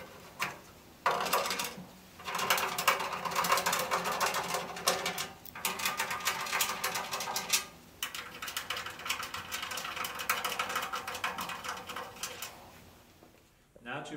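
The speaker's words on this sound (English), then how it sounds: "remove and discard the four studs and spacers from the machine." Clattering metallic handling as studs and spacers are pulled off a wheel balancer machine: repeated knocks, scrapes and rattles in bursts with brief pauses, fairly close.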